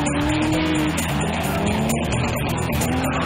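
An orange BMW and a first-generation Ford Escort run drift laps in front of a crowd at a competition, with loud continuous tire squeal and engine roar throughout and no clear pause.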